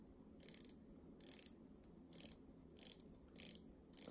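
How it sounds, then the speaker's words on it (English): A Seiko SPB107 Marinemaster 200 dive watch's unidirectional bezel is turned in five short, quiet bursts of fine, rapid ratcheting clicks, heard close up with pauses between turns. "the bezel is unidirectional, and for Seiko bezel it's quite smooth, as you can hear."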